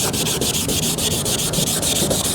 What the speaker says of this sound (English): remember, you want to keep wetting that sandpaper, okay? That's real important. You don't want to feel it rubbing on dry at all.